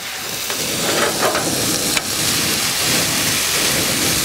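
Fried egg sandwiches sizzle on an outdoor cooktop, a steady dense crackle of frying that holds at a constant level throughout, with a few brief clicks and one sharp tap near the middle.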